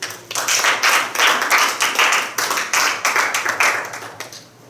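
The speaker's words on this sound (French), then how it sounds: "Acclamons la parole de Dieu." A church congregation claps in a quick, rhythmic burst of applause, the hand claps close and fairly loud, pulsing in waves for a few seconds before fading out.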